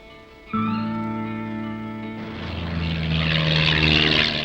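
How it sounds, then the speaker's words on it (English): A propeller plane drones loudly overhead, its steady engine hum swelling and growing rougher as it passes close by. "That plane's flying low."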